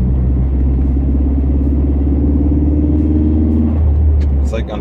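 A car engine running rough under partial throttle makes a heavy, continuous low rumble and drone that stays loud throughout and shifts slightly near the end, with faint vocal sounds at times.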